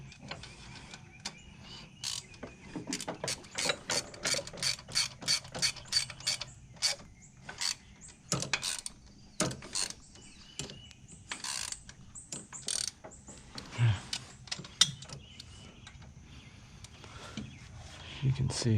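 Rapid ratchet clicks from a torque wrench tightening cam bolts on a 2-valve engine, repeated bursts of close, sharp mechanical ticking with brief pauses between strokes.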